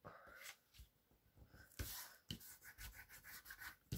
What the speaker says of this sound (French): on vient gommer les traces de colle